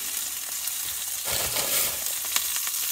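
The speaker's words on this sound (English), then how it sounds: "A little more than I wanted, but gonna fry that up." Plain olive oil frying in a camp pan outdoors, a steady broadband sizzle that swells into louder crackling and spitting partway through, heard close up with no voices.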